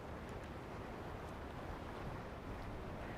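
Steady sea waves wash without a break, a dense rushing roar with wind noise over the microphone and no voices.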